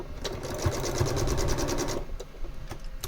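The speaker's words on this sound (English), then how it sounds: "I'm having trouble with my sewing machine." A sewing machine with a fault runs in a fast, steady burst of stitching a quarter-inch seam on a quilt block for about two seconds, then stops, leaving a few soft clicks and handling noises.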